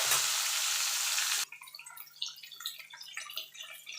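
Rohu fish pieces fry in oil in a pan, a loud dense hiss that settles after a second and a half into quieter, uneven crackling and popping spatters.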